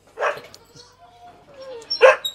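Farm dog gives a couple of short barks, one near the start and a sharper one toward the end, with voices talking around them outdoors.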